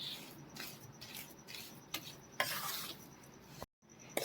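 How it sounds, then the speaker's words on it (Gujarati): Magas, a gram flour sweet, being stirred and pressed to work in the sugar, giving close, steady scraping and stirring with soft sizzle-like texture, a brief quiet gap near the end. "તેને આપણે પાંચ મિનિટ માટે આવી રીતે મિક્સ કરીશું આમ પ્રેશર કરી એટલે કદાચ કોઈ ખાંડનો ગાંગડો રહી ગયો હોય તો પણ સરસ મિક્સ થઈ જાય"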